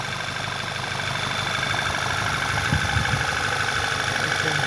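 A car engine idles steadily after a fresh start following an oil leak repair, a constant close rumble with no voices over it.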